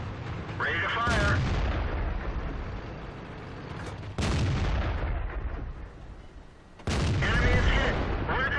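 An AMX 13 90 tank firing its gun in World of Tanks, three heavy booms spaced a few seconds apart over a steady rumbling engine and battle din.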